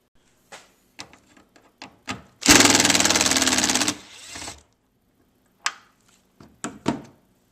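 T30 Torx bolts come out during a BMW Vanos solenoid replacement. Scattered tool clicks and taps surround one loud, rattling power-driver burst of about a second and a half, followed by a few more sharp knocks.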